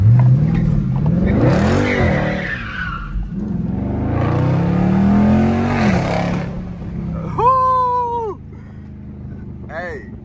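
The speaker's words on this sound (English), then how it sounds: "It's too many goddamn cars" Cars on a street rev and roar past with sweeping engine notes and tire squeal, loud and close, followed by a short, sharp skid.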